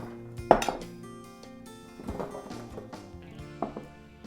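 Vegetables are tossed into a large roasting pan, giving a few quiet clatters and clinks: a sharp knock near the start, then softer rattles spread across the next few seconds.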